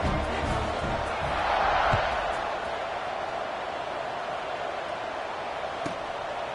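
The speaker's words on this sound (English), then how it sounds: "this crowd is buzzing after that last score." Football stadium crowd buzzing before a kickoff, a broad steady murmur of many distant voices with a faint swell, under a commentator's talk.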